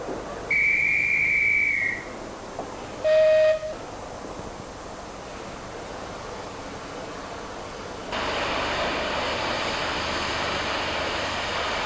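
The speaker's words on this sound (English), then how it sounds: "blows his whistle" A train guard's shrill whistle blast rings out for about a second and a half on the Nene Valley Railway, followed by a shorter higher whistle, then a steady hiss of steam or engine noise.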